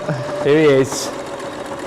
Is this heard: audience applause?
no